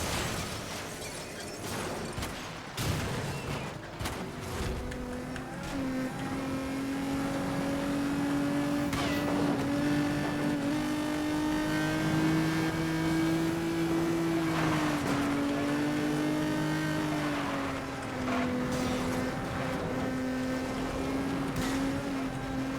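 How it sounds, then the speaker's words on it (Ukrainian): A sports car in Need for Speed: Most Wanted (2012), near 290 km/h, holds a loud, steady engine drone with a clear pitch that climbs, dips briefly and then carries on, with no one talking. "Прискорююсь. За 290 майже їду."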